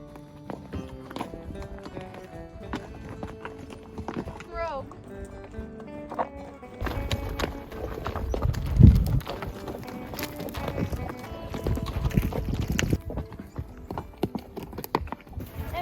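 Horses walk a mountain trail in Idaho, their hooves clip-clopping in a steady, uneven rhythm under almost continuous conversation between riders.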